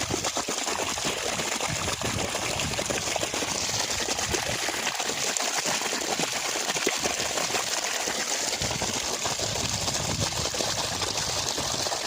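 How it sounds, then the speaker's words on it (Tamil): Water gushes continuously from a 3-inch solar pump pipe at close range, a loud, steady rushing splash with no voices. "தண்ணி பாருங்கள், 3 இன்ச்சு பைப்பில் ஃபுல்லாக தான் நல்லா போயிட்டுருக்குது."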